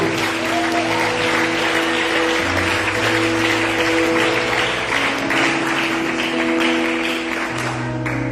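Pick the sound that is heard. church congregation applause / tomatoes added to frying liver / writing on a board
church congregation applause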